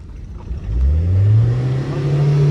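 A car engine revs up close by, rising from a low idle into a strong, sustained roar.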